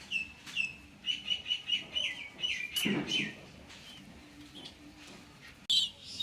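A pair of young Mili racer pigeon chicks gives rapid, high-pitched squeaky chirps in quick runs, close by and moderately loud over a faint room background, with a brief pause before one last sharp cheep.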